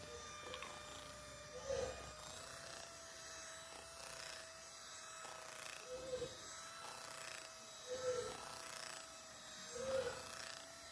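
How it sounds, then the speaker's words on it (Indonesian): An electric hand mixer beats banana cake batter in a quiet kitchen, producing a faint, steady motor whine with occasional soft bumps and scrapes of the beaters against the bowl. "Jadi mixer sampai adonan kental berjejak."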